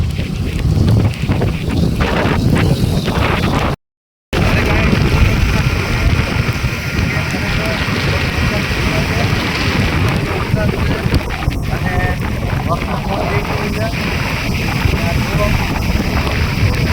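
Heavy rain while travelling to the office, heard as a steady loud roar with strong wind buffeting the microphone throughout; there is a brief dropout, and faint talk sits under the noise.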